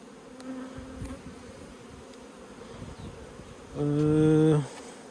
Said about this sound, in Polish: Tutaj akurat jakiś oblot młodej pszczoły, albo ten miód trochę ich tu skusił.